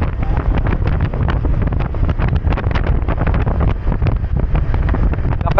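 Strong typhoon wind near the sea, loud and relentless, buffeting the microphone in constant roaring gusts with no break, no voices.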